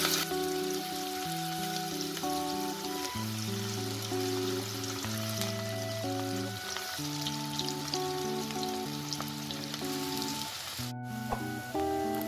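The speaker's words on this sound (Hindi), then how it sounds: "ऑयल हमारा गर्म हो गया है, अब मैं इसमें रिंग डालने लगा हूँ।" Onion rings deep frying in hot oil over medium heat, a steady, close crackling sizzle running throughout with soft background music.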